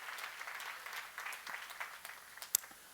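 A church congregation claps during a sermon on Proverbs, a fairly quiet, scattered round of applause with uneven bursts and one sharp louder clap near the end.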